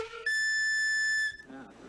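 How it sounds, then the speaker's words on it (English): An old steam whistle gives one sustained, piercing, tonal blast for about a second at full volume, then cuts off abruptly into quieter background sound. "Steam whistles have only one volume: full blast, ear-shattering loud."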